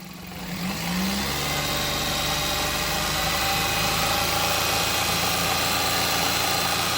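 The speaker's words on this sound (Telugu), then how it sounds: "ఇప్పుడైతే మీకు ఒకసారి వెహికల్ స్టార్ట్ చేసి చూపిస్తాను" A 2006 Maruti Alto petrol car's engine cranks and catches, then runs steadily at a close, loud idle with a constant hum and slight rise in revs.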